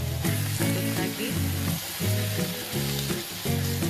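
Potato sambal goreng with petai, water and coconut milk frying in a pan, a steady loud sizzle broken by repeated rhythmic scrapes of stirring, with no talking.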